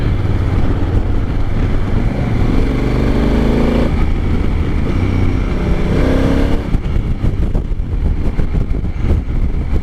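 A 2019 Honda Africa Twin DCT motorcycle rides at low speed in a high gear, its engine droning steadily and close for the whole stretch, with a slight shift in tone partway through and no voices.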